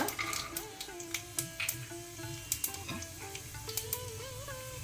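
Chana dal, urad dal and peanuts fry in hot ghee with mustard seeds, a steady close sizzle and crackle broken by occasional pops and stirring clinks, with music-like tones and faint voice in the background.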